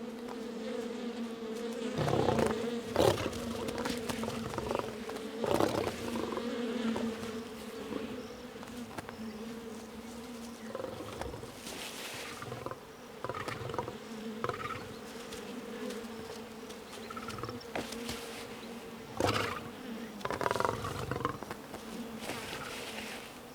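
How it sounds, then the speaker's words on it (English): An angry swarm of bees buzzes in the wild, dense overlapping drones rising and falling as insects pass close by, with sharp louder swells as individual bees fly near. "The cub disturbs a swarm of bees."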